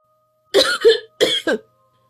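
Two pairs of harsh coughs close up from a woman coughing up blood, a short pause between the bursts, then quiet.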